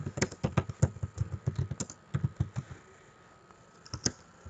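Someone types on a computer keyboard in quick bursts of close, crisp key clicks, pausing briefly before a few final taps; no talking.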